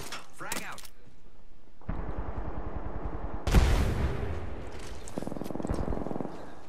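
In the video game Apex Legends, turret gunfire comes as rapid bursts broken by short gaps, with loud crackling shots in the middle and other game noise around them. Voices can be heard at points.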